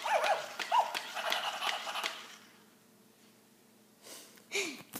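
A toy puppy doll gives a few short, high mechanical barks and yips in the first two seconds, then goes mostly quiet before a couple more bark-like sounds near the end.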